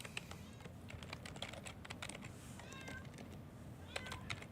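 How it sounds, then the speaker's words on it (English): Pearl the cat meows a few times faintly in the background beneath steady computer keyboard typing and clicks in a home room. "So if you hear a cat in the background, that's Pearl, who is never silent."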